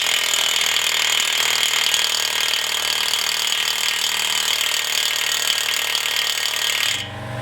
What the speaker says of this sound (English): I know you're not supposed to run these kind of sockets on an impact, but we're going to give it a shot